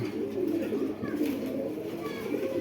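Pakistani Giribaz pigeons cooing in a low, soft, continuous burble, close by, with someone speaking over them.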